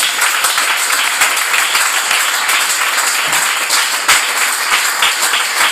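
Church congregation applauding together, a dense, steady wash of many hands clapping at close range, sustained and loud without pause from start to end.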